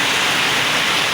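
Heavy afternoon rain pours down in a steady, dense hiss, loud and close, with no break and no voices over it.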